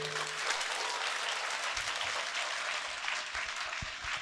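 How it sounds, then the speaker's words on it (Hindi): Students in a school hall applaud with a steady, even roar of many hands clapping, held at a constant level throughout and moderately distant, with a few low thumps and no speech. "बहुत इनके लिए खूब जोर से तालियां।"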